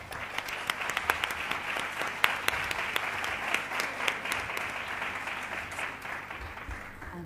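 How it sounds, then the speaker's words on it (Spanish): Audience applause at an international congress on learning communities, a steady wash of many hands clapping for about seven seconds with a few sharper claps standing out, holding level then easing slightly toward the end. "Un aplauso, por favor."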